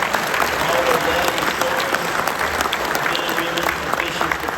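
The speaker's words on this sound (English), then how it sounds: "please give all those sponsors a huge round of applause" An audience at a Fishing for Freedom event gives a sustained round of applause for the sponsors, with steady, dense clapping that holds level throughout and faint crowd murmur beneath.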